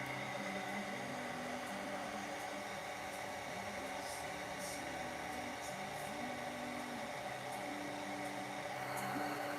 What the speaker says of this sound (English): Give this a little blow dry here so I can flip it over.